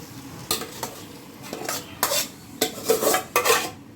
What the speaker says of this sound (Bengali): এবার আমি গ্যাসটা বাড়িয়ে দেব এবং মশলার মধ্যে পুরোটাই দিয়ে দেব